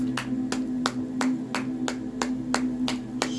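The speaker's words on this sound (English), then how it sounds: "All of those claps." Hands clap in a steady, evenly spaced rhythm, about ten crisp claps over a constant low hum during a third-eye chakra session, close and moderately loud with no talking.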